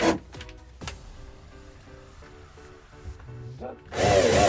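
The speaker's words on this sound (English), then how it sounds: "I'm going to drive them through those holes." Power drill driving screws through the holes of a power strip into a wall, heard as a close, steady whirring motor hum that ends in a louder burst, with no talking.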